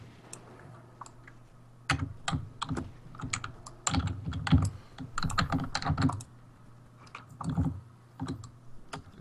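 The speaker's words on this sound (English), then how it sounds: "I'm just hitting my keys. Really hard. This keyboard is loud" A loud computer keyboard struck hard, giving irregular bursts of sharp clacking keystrokes that come in quick clusters with short pauses, close and prominent, with no talk over it.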